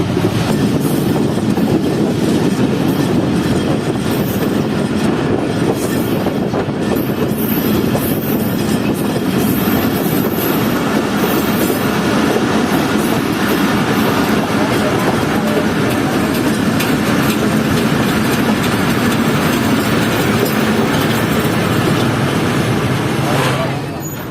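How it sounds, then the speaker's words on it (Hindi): Inside the Fareed Express as it enters Mirpur Mathelo station: a loud, steady roar of rolling wagons with clickety-clack rhythm and occasional wheel squeal, continuous throughout, with a voice talking under it. "हमारी ट्रेन एंटर हो चुकी है मीरपुर माधेरो शहर में"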